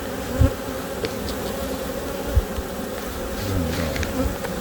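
Honeybees swarm around a newly built hive, giving a close, continuous buzzing drone with a few soft thumps mixed in.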